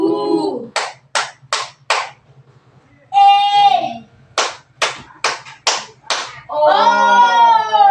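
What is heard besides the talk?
class clapping hands together in rhythm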